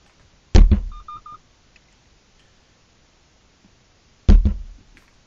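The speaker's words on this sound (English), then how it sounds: "we hit it with the basketball twice" A basketball strikes a parked car with a dashcam in parking mode, giving two separate hollow thuds a few seconds apart, each followed by brief rattling, with near silence in between.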